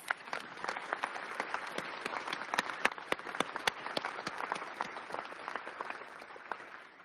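Audience applause at an agency's annual State of the Agency address, a steady wash of many hands clapping with sharp individual claps standing out, sustained and fairly close throughout.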